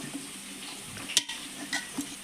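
Amla, Indian gooseberries, lightly frying in a pan for pickle, a soft steady sizzle with a few close stirring scrapes and clinks of a utensil against the pan.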